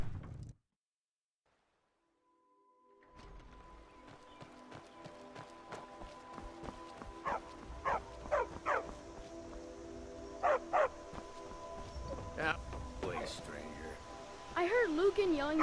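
Dog in Skyrim, in the village of Riverwood, barking in several short sharp bursts amid footsteps and ambient game sounds, fairly close.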